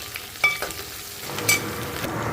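Onions fry lightly in oil for a mung bean fritter biryani, making a brief soft sizzle punctuated by a couple of sharp utensil clinks against the pan.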